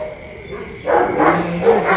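A pregnant dog confined in an iron cage barks and yelps, starting softly and then breaking into louder, repeated barking in the second half, close and clear with no talk.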